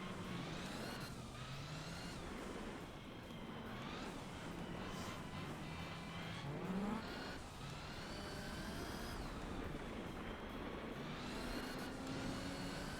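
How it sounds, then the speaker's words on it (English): Race car engines revving in Gran Turismo 4 during a special conditions event, sustained high-pitched engine whine with repeated rising and falling sweeps as gears shift, steady and fairly loud with no talk. "I heard that engine start to rev behind me"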